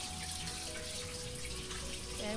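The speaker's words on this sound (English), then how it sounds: "so turn on your water as hot as it can go" Hot water runs from a tap into a bowl while making homemade playdough, a soft steady stream of hiss and splash at low level throughout, with faint tonal hums drifting underneath.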